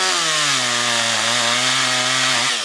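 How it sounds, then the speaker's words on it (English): A chainsaw runs at a steady high whine while cutting a tree branch during restoration pruning, close and loud, its pitch dipping slightly under load before easing off at the end. "I have to start up the chainsaw again."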